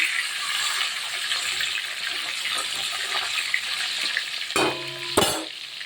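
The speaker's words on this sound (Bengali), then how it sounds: "এদিকে আমি মাছের মাথাটা মাছের তেলটা ভাজতে বসিয়েছি" Hilsa fish head sizzling and crackling in hot mustard oil, a steady close frying hiss throughout, with a couple of sharper spatters near the end.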